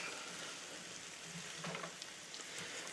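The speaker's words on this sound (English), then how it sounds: "we're gonna give this a little stir so we can get some of those onions off the bottom so they don't burn" Soft, steady sizzle of onions frying in butter in a pan for haluski as they get stirred, with faint scraping, quiet and close.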